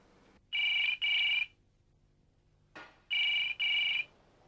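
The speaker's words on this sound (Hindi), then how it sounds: "मैं अभी जेके को फोन करती हूँ।" Telephone ringing as a call is placed, two double rings separated by a pause, each a bright electronic trill, close and clear with nothing else over it.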